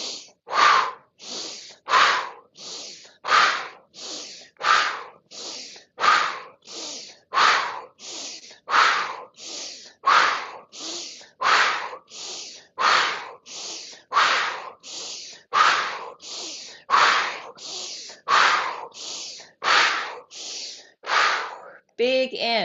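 Repeated deep breathwork cycles, forceful rhythmic inhales and exhales through the nose and mouth, about twenty loud, close breaths in steady succession with no pauses, ending in a brief shaky exhale.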